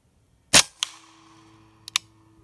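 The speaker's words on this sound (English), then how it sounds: "we're going to try to shoot the cedar 6-ply" A Hatsan Blitz .30 caliber PCP air rifle fires a single sharp, loud crack at a cedar 6-ply target, followed by a quick thump of impact and a pair of fainter clicks afterward, with no talking.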